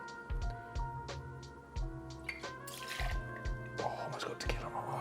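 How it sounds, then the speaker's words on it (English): Tequila for a strawberry and basil margarita is poured into a measure in short liquid splashes and drips, close and fairly quiet, alongside faint clinks and background music. "We're measuring out 2 ounces, 60 ml of tequila"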